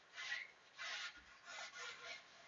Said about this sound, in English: So let me keep scrubbing.